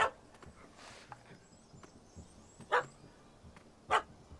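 A puppy barks in The Witcher 3 as a few sharp, separate yaps with gaps between them, one early and two louder ones near the end, set over a quiet, murmuring game background.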